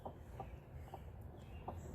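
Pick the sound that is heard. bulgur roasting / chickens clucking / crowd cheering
chickens clucking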